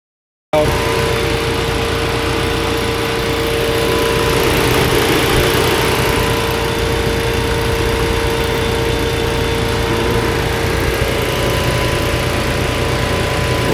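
A 2017 Chevrolet Malibu four-cylinder engine idles on a cold start with a cold air intake fitted, steadily and fairly loudly, a continuous rough drone with a faint whine above it, no voices.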